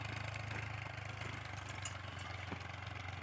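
A tractor engine idles at a farm field during Diwali celebrations, a low steady rumble with a faint regular pulse, fairly distant and quiet, with no voices.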